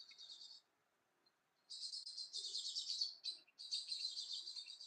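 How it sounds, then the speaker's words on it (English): A blackbird sings outdoors in bursts of bright, warbling phrases, a short burst, a pause, then longer continuous song, fairly close and clear with no talking. "Blackbird's kicking off."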